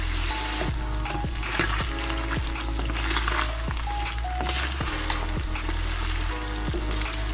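Chicken pieces for Sri Lankan devilled chicken fry slowly in a pan, a steady, even sizzle running throughout with regular soft crackles and pops, close and alone with no talking.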